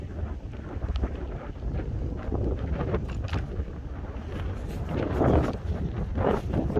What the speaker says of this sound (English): So goddamn windy, it's gonna keep getting knocked over.